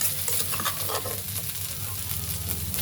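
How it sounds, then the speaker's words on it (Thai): Spice paste ingredients stir-fried in a pan, a dense, continuous sizzle and hiss with a few soft stirring scrapes, close and even in level, with no voices. "ผัดเครื่องซะก่อนครับ จะได้หอมม ผัดเครื่องให้หอมก่อนนะครับ"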